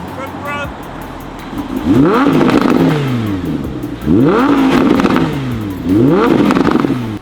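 A nearby car engine, likely the Audi R8, revs hard three times in a row, each surge climbing sharply and falling back, loud and close with voices around it.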